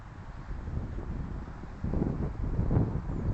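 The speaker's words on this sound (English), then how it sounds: "It's a bit windy." Gusty wind blowing across a lake on a cold, rainy day in England, rumbling against the microphone and strengthening partway through, with no talking.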